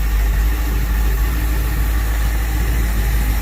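The 5.0 engine of a 1989 Bayliner Capri ski boat idles in a loud, steady, low rumble, close by and unbroken, with no talking.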